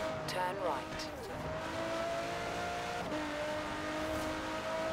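A fast car races in Forza Horizon 4 with a continuous engine whine that pitches up and down through gear changes, heard quietly and steadily throughout.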